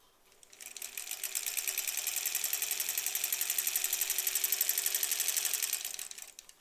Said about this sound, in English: let's sew these together, and then we'll press this and see what to do with it.